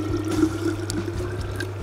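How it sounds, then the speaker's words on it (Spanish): Water is poured and swirled into a nearly empty tomato container, rinsing out what remains for a vegan lasagna; a close, steady trickle and slosh that is short and unaccompanied by speech. "lo que quedó del envase le voy a agregar un poquitito de agua"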